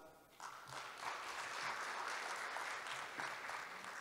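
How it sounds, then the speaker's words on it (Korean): An audience at the opening ceremony of a Korean shipbuilding and naval architecture society's 2021 autumn conference applauds after the opening address, a steady, fairly distant wash of many hands clapping that fills the hall and continues throughout. "다시 한번 큰 박수 부탁드립니다."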